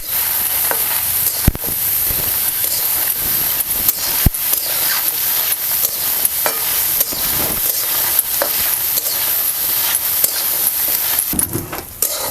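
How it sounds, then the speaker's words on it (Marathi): Green tomatoes, chillies and garlic roast in a hot pan for a village-style chutney, hissing with a steady loud sizzle while a spoon stirs and scrapes in frequent close strokes. "हे बघा आता टमॅटो आणि मिरची वगैरे चांगलंसं भाजलेले आहे"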